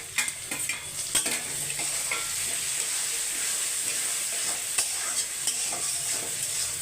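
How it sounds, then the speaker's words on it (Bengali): Tomatoes fry in a pan with onions, a steady bright sizzle with a utensil scraping and stirring through it in occasional clicks, close and continuous. "টমেটোগুলো ভাজা ভাজা হয়ে যাবে।"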